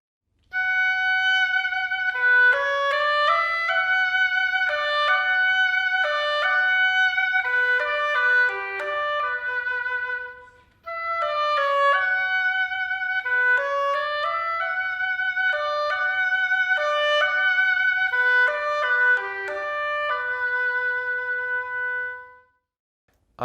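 An oboe played by a Hong Kong Philharmonic musician, a melodic reed line of quick, distinct notes running alone and steady, with a brief pause midway before the phrase resumes.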